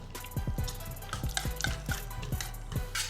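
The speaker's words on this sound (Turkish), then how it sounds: "Bunu çırpma teliyle iyice çırpıyorum." A whisk beats labneh cream cheese and coffee pudding, giving quick, rhythmic scraping taps against the container in short repeated bursts, close and clear with no talking.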